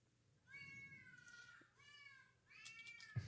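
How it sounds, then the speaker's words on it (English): Cat meows played from a human-to-cat translator phone app: three drawn-out, high, tonal meows in a row with short gaps, fairly faint, heard alone without talk. "So this is the human to cat app."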